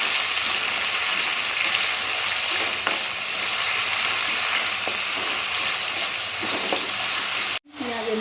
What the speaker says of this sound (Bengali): এখানে আমি একটা বড় সাইজের পেঁয়াজকে কুচিয়ে নিয়েছি, এর মধ্যে দিয়ে দিচ্ছি। পেঁয়াজটাকে একটু ভালো করে আমি ভেজে নেব।